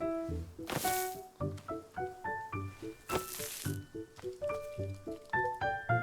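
Plants are watered in the video game Wanderstop, a run of soft, squishy, liquid splashes and gurgles mixed with bright, melodic musical tones, steady and rhythmic, with faint bits of voice.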